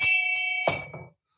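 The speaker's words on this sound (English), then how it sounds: "I've started to use the gong as a way to celebrate." A small gong struck once as a celebration, giving a bright ringing strike with sustained shimmering overtones, a second lighter tap, then a muffled hit that quickly dies away into silence.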